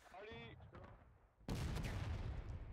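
Artillery booms in the American Civil War game War of Rights: a heavy, sudden blast followed by sustained rumbling fire, coming after a brief stretch of voice.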